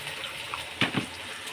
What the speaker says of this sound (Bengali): এবার বাটিটা ধুয়েও একটু জল দিতে হবে।